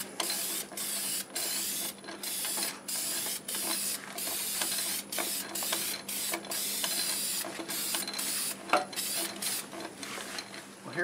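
Steady hiss of a spray finish onto wood turning slowly in low range on a lathe, over the machine's low, even hum, with short repeated spray bursts throughout.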